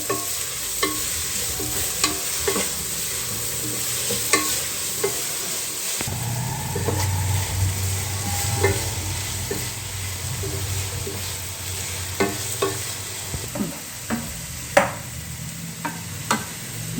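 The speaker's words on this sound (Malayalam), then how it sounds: "നന്നായി വഴറ്റി വന്നതിന് ശേഷം നമ്മൾ ഫ്രൈ ചെയ്തെടുത്ത ചെമ്മീൻ ഇതിലേക്കിടും" Fried prawns sizzle in a pan of biryani masala as a spoon stirs and scrapes through them, with a continuous close hiss and repeated clinks.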